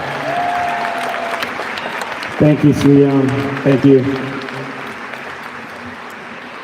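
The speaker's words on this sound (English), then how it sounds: "can we please give her a big round of applause?" Audience applause in a packed state house hall during an Immigrants' Day event, a steady broad patter of clapping running throughout while a speaker at the microphone talks briefly over it.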